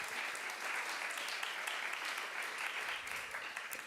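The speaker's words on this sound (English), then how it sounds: "let's give a big round of applause to our winners and our donors" An audience at a women's psychedelics summit gives a round of applause for prize winners and donors: a continuous, moderately distant patter of many hands clapping, steady throughout with no voices on top.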